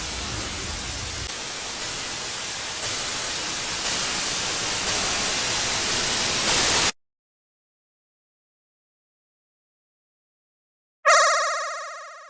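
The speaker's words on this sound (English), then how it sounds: "as the static grew louder" Harsh, loud static hiss in a Sonic.EXE creepypasta fills the first seven seconds and grows slightly louder before cutting to silence, then a short burst of electronic tone returns at the end.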